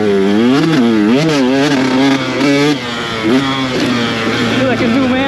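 A dirt bike engine revs and drones loudly throughout while being ridden over jumps and corners, its pitch rising and falling steadily with the throttle; no talk is heard over it.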